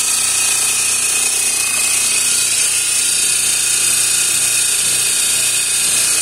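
A homemade sander powered by a washing machine motor runs continuously, a loud, steady high-pitched whine and hum with no change in level throughout.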